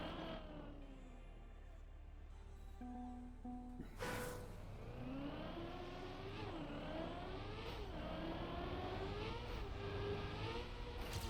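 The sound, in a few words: stadium car engine driving in Trackmania video game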